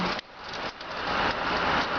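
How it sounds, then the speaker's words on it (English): Heavy rain pours onto a street outdoors, a dense, steady hiss of falling water close to the microphone that rises slightly and continues without speech. "But anyway, the point is, it's raining."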